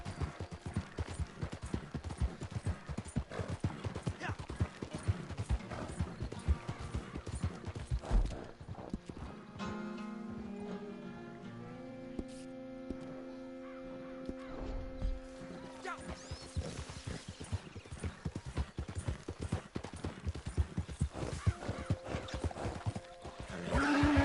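A small horse in a video game trots with repeated hoof clip-clops under game sounds, a whinny rising mid-clip among tonal effects, then the hoofbeats resume loud and close.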